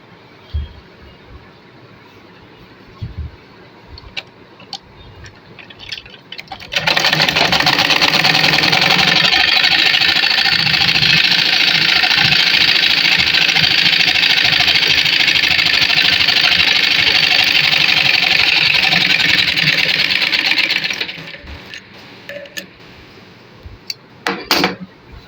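Sewing machine stitching the side seams of a simple pajama, running steadily and loudly for about fourteen seconds, with quieter handling noises before and after.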